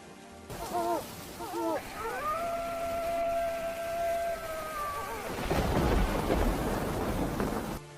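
A steady wash of heavy rain runs through a horror-story sound effect, joined by rising and falling wailing, howling tones and a deeper rumble of thunder toward the end.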